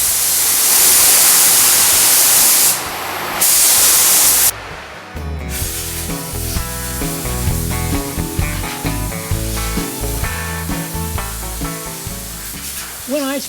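A paint spray gun hisses in a steady, loud burst of spraying, cuts briefly and resumes, then gives way to a busier mix of sounds with music-like tonal layers.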